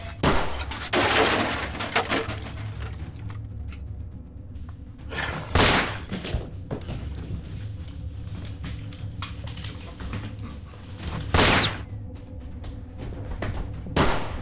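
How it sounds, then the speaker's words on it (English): Gunfire in a web series scene: several loud, sharp bursts spaced seconds apart over a rumbling background, each cracking and trailing off. "Multiple shots fired."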